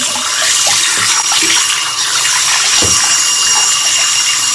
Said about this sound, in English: let's increase the water pressure a bit more